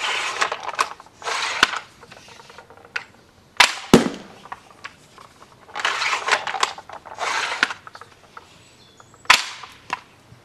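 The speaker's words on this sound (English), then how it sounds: "So this is my pump gun with a magazine up here and a repeating mechanism." A bullpup slingshot pump gun with an overhead magazine and repeating mechanism is cycled and fired, giving several sharp snapping shots between bursts of sliding, rattling pump-action noise, close and fairly loud.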